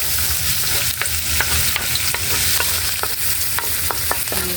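Fish sizzles steadily in hot oil while a utensil scrapes and clinks against the pan in irregular strokes, close and continuous.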